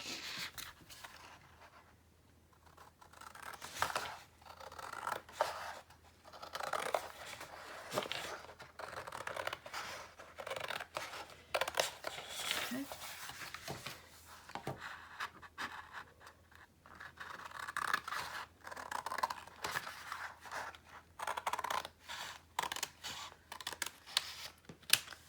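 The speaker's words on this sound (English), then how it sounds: "I'm going to cut them so that I have a 1 inch border all the way around my cover" Scissors cut a 1-inch border around a Stamperia Voyages craft mini album cover, producing a long run of close, crisp scratching and rasping strokes in uneven bursts with no talking.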